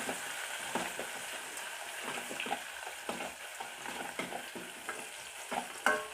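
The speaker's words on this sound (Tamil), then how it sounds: "வெங்காயத்தையும் சேர்த்துக்கிடலாம் இது வெங்காயத்தை நல்லா வதக்கிக்கிறலாம்" Onions sautéing in a pan for sambar, a steady broadband sizzle with repeated scraping stir strokes at an irregular rhythm, close and moderately loud, with a sharper clack near the end and no talking.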